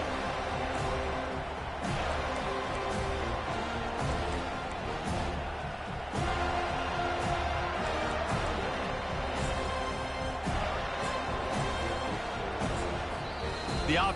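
A home crowd at a Clemson football game roars without letup, a dense, loud wall of cheering and noise with occasional sharp bangs rising out of it and no clear gaps.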